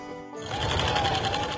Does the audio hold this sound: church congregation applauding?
no